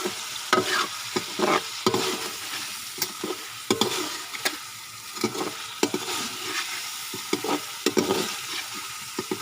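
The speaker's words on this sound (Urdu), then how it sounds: "اب اس میں ہم دھنیا پاؤڈر ڈالیں گے اور اس کو 2 منٹ کے لیے پکائیں گے۔" Chicken karahi masala with tomatoes and coriander powder cooks in ghee in a pan, giving a continuous close sizzle broken by frequent sharp clinks and scrapes of a spoon being stirred.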